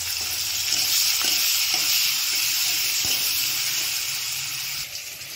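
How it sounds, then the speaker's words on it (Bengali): Garlic frying until reddish in a pan, with tomatoes going in, makes a close, steady sizzling hiss that eases near the end, with a few faint clinks and no talking. "রসুনটা লাল লাল হয়ে গেছে। এবার দিয়ে দেবো টমেটো।"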